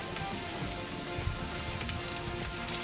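Meat frying in onion oil in a pan, cooked like steak, gives a loud, continuous close sizzle with dense crackling spatters and no pauses.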